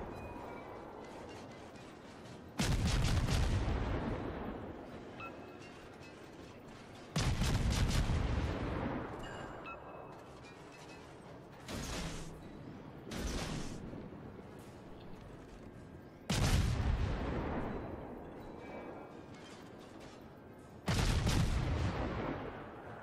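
Heavy naval gun salvos in World of Warships fire at the battleship New Mexico, each salvo a loud booming blast with a long rolling decay, about six volleys spaced several seconds apart over a low sea-engine rumble.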